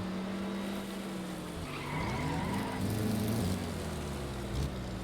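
Cars in the Stormworks: Build and Rescue game race in a drag race, engines droning steadily while tires skid and squeal around the middle, a continuous loud motor tone with pitch shifts and no talking.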